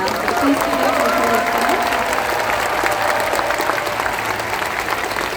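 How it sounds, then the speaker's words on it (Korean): At the Busan International Film Festival, a theatre audience greets the lead actors of Les Amants du Pont-Neuf on stage before the screening with long, sustained applause and scattered cheers, loud and unbroken from start to finish. "여러분 큰 박수 한번 부탁드립니다."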